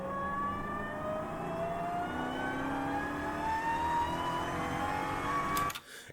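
A 807 HP Dodge Challenger Hellcat Super Stock exhaust revving, engine note sweeping steadily upward in pitch as it builds for several seconds, loud and close, then cutting off abruptly.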